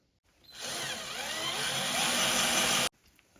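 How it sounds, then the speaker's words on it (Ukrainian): A power drill whirs steadily for a couple of seconds, a loud continuous high-pitched grind as a new store-bought bit bores in, then cuts off abruptly. "Попробуємо, як свердлить новеньке магазинне свердло."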